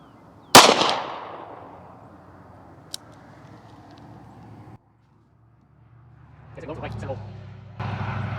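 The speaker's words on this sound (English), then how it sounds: "shooting Fiocchi 38 Special 158 grain FMJ general purpose" A Smith & Wesson Model 36 snub nose revolver fires a single sharp, loud shot of Fiocchi 38 Special 158 grain FMJ ammunition outdoors at a range, the report decaying over a second or two, followed later by talking.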